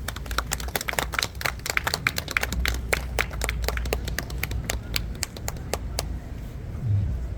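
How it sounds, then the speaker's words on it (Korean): An outdoor crowd at a Sewol ferry memorial event in Jeonbuk claps to welcome a speaker, a crisp, fairly sparse patter of hands over a low rumble of wind or ambient noise, lasting several seconds. "박수로 맞이해 주십시오"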